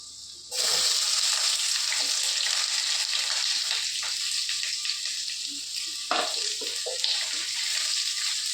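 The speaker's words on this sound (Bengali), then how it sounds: "এর মধ্যে এখন দিয়ে দিব পেঁয়াজগুলো।" Onions drop into hot oil with lightly browned garlic and burst into a loud, close sizzle after a quiet half second, then keep frying steadily with faint stirring sounds.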